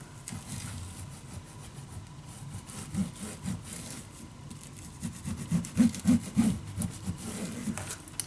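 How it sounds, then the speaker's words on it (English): Paper is burnished down onto a scrapbook board, mainly along its edges, with soft, repeated rubbing and scraping strokes that grow busier toward the end, close up and fairly quiet. "Burnish it down, especially on the edges, guys, especially on the edges."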